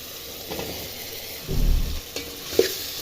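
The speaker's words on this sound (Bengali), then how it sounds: "এবারে আমি ভুড়িগুলো দিয়ে দিচ্ছি," Tripe is added to a pan of frying spices with ginger-garlic paste and chilli powder, then stirred. A soft sizzle runs beneath a thump as it drops in and a few scraping stirs.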